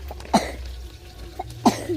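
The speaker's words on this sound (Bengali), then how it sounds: "আস্তে কাশি হচ্ছে" Two soft coughs from a person at home, close and quiet, separated by a short pause, with faint background sounds.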